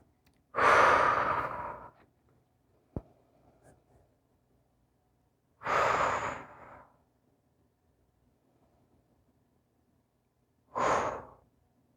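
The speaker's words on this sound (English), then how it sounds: "Close your eyes and take some nice deep breaths here." Three slow, deep breaths held in a yoga squat, each long exhale loud and close with quiet pauses between, plus one faint tap in the middle.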